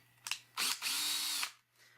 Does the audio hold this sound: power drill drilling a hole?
yes